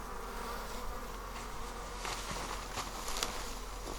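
Honeybees crawl about in a hive box, a soft, continuous buzzing hum with faint rustling patter, steady and close.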